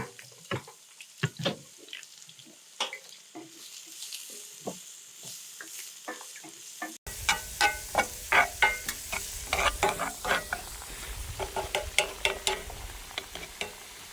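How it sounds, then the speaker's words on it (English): Diced potato frying in olive oil, a busy sizzle with frequent stirring scrapes and clinks, the crackle growing louder and denser in the second half as the pan heats up. "Go ahead and get this first potato frying up."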